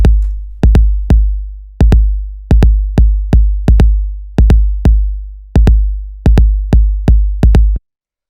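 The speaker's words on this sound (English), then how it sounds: "the last thing we have down here is this big 808 kick" A deep, booming Roland 808 kick drum hits repeatedly in an uneven pattern, each loud thump sliding into a long low tail before the next strike.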